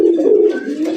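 Pigeons cooing close by, a single soft, throaty coo rolling in low and fairly loud, with no talk over it.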